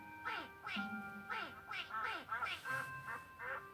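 Rapid duck quacks serve as a sound effect in a children's read-along of The Ugly Duckling. About eight bright, nasal calls come in a quick, uneven run, loud and near.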